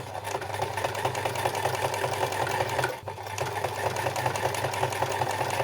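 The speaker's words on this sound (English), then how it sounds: "then we're going to come and stitch this right back in place." A sewing machine stitches a seam in fabric, its rapid even needle clatter running steadily up close with one brief pause, no talk.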